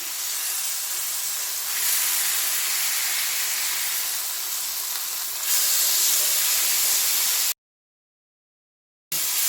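A chicken patty sizzling in a pan on a stove at medium heat just after being flipped, a steady loud hiss and crackle of frying that continues without talk before cutting to silence near the end.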